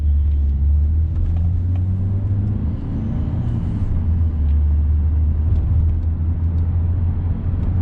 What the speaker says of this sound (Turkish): Araba hızlanıyor ama güzel hızlanıyor.